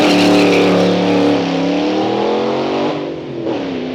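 An antique Cadillac roars off the line in a drag race, a loud, close engine revving hard and rising in pitch as it accelerates, then easing slightly near the end.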